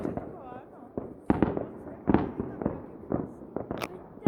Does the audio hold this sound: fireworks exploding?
yes